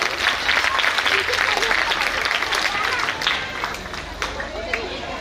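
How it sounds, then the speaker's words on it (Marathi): A crowd applauds at a school annual gathering in Nanded, dense steady clapping from many hands that continues throughout with a murmur of voices underneath, easing slightly toward the end. "टाळ्या वाजवायच्या सगळ्यांनी"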